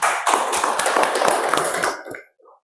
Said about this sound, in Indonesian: Beri aplaus dulu buat Adrian